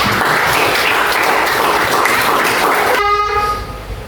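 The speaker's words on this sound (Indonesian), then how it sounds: "Kita beri aplaus untuk kita semuanya" A classroom of students applauds together in a steady, loud burst of clapping that runs for about three seconds before a sharp tonal sound cuts in and the clapping fades.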